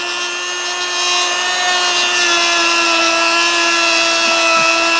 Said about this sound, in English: This is a new polishing wheel. So they send little pieces of cloth everywhere till they get down a little bit.